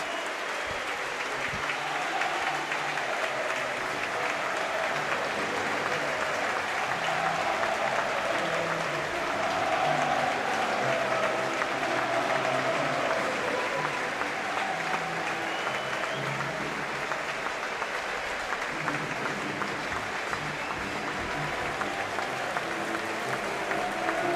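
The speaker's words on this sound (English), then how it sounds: "we'll hear the crowd welcome the two teams" Football crowd at Home Park as Plymouth Argyle and Bolton Wanderers walk out, a steady roar of applause and cheering from the stands that holds for the full stretch, swelling briefly in the middle.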